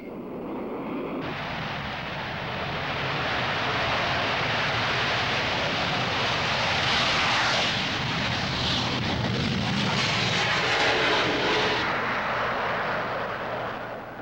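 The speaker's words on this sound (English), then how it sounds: "On takeoff, you let go with the 2 most powerful engines of any fighter in the world." Twin jet engines of a MiG-25 interceptor roar on takeoff, a loud, broad, sustained thunder that swells and holds for the whole stretch with no voices over it.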